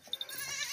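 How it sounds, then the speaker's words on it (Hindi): A healthy, plump goat bleats in a short, faint, wavering cry, heard briefly over low background noise with no talking. "मोटी ताज़ी और साफ सुथरी बकरी है"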